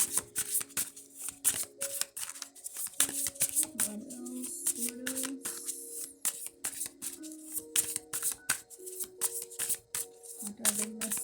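Rapid riffling and snapping of tarot cards being shuffled, quick bursts repeating close up with no one talking.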